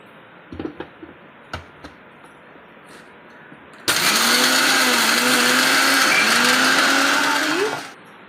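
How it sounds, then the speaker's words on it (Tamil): An electric mixer grinder dry-grinds roasted spices for mango pickle, starting abruptly after a few small clicks and knocks, then whirring loudly with a jittery rattling pitch for about four seconds before winding down. "நம்ம வறுத்ததை மிக்ஸி ஜாரில் போட்டு ட்ரையாக நுணுக்கிட்டு வந்துடுவோம்."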